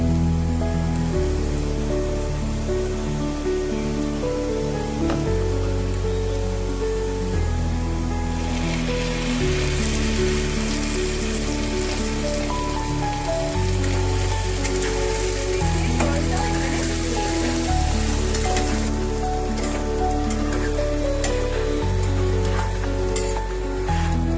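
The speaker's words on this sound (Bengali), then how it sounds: "এবার আমি এর মধ্যে দিয়ে দেবো পোস্ত বাটা।" Poppy seed paste, six spoons of poppy seeds ground with two green chillies, added to a pan for aloo posto, giving a steady sizzle and frying hiss under prominent background music.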